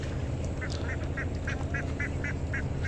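About eight evenly spaced quacks come from a group of ducks being taken home across an open river char. They sound moderately near over a constant rumbling outdoor background.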